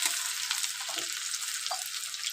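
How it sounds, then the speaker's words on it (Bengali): Chopped onion frying in a hot wok for a banana-flower curry, a steady loud sizzle with brief stirring scrapes over the hiss, no voices. "পেঁয়াজ কুচিটা দিয়ে খুব ভালোভাবে ভেজে নেব।"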